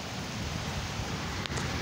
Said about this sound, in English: wind blowing, it's raining hard